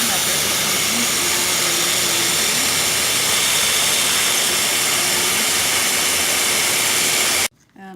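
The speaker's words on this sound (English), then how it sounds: "I'm gonna blend up everything." A kitchen blender roars steadily, blending a jerk chicken marinade with oil and seasonings, loud and close, then cuts off abruptly near the end.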